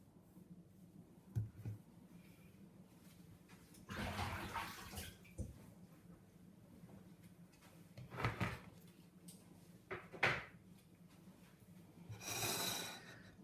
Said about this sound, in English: I'll put my hand in water again in a minute because I know there's a load on my hand